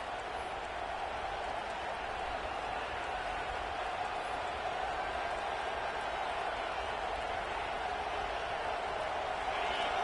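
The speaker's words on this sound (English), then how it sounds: "The roar of the crowd trying to fuel this defense to keep them pinned in their own end." Football stadium crowd at a Baylor versus Oregon game roaring steadily as it cheers on the defense, a dense sustained wall of noise that holds at an even level throughout without a break.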